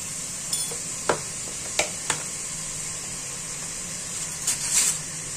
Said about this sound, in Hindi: और अब हम इसमें डालेंगे लहसुन अदरक का पेस्ट।